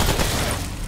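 Gunfire in the video game Remnant from the Ashes, a brief dense burst of shots that fills the moment loudly and close.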